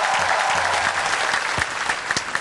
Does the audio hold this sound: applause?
yes